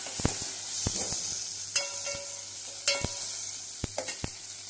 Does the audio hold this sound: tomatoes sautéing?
yes